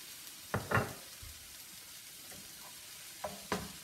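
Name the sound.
stir-frying leeks with soy sauce in a pan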